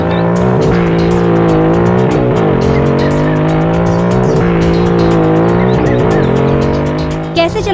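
A car driving fast gives a loud, sustained engine roar that rises and falls with shifting pitch, and tires squeal near the end. It is heard up close, with no talk over it.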